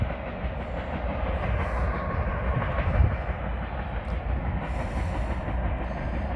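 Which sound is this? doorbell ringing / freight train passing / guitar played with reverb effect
freight train passing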